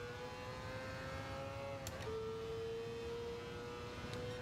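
Race car engine in GT Sport climbing a bumpy uphill onto a bridge, a steady high-pitched whine that drops sharply in pitch midway, as on an upshift, then holds level, fairly quiet and alone.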